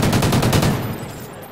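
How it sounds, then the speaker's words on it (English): Video game gunfire rattles out as a rapid automatic burst of close, loud shots, roughly seven evenly spaced cracks in the first moments, then trailing off into fading echo. "He's trying to shoot me."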